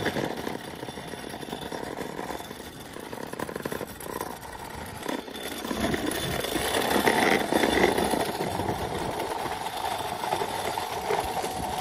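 Straining electric motor of a modified scooter under load, a buzzing whine that rises and grows louder midway while riding, heard close without talk.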